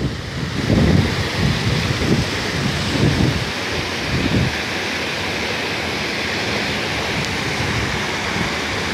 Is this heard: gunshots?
no